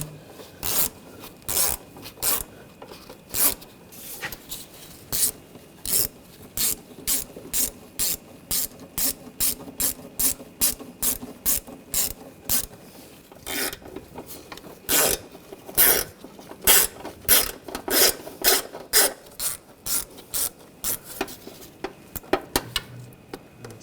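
A ratchet wrench threads intake manifold bolts on a 2004-2012 Chevrolet Colorado 3.7L L5 engine, with close, crisp bursts of rapid clicking repeating in short runs separated by brief pauses, heard alone.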